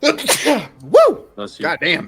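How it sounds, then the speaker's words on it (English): A person sneezes sharply and close up, followed at once by loud exclamations from the same voice. "I'm gonna sneeze."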